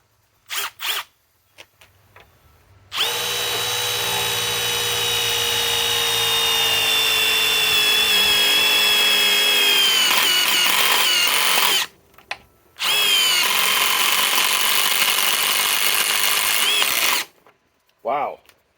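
A Milwaukee M18 Fuel cordless impact driver on a 5 amp XC high output battery drives #10 by 1 inch sheet metal screws in two long, loud whining runs of several seconds each, with short clicks and pauses between.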